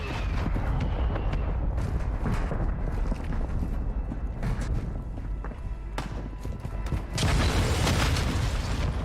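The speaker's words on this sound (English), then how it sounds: "Copy that. Mortar strike inbound." Mortar strike explosions in Warzone 2 land as a steady run of loud, heavy booms and rumbling blasts across the whole stretch, with a fresh surge of impacts near the end.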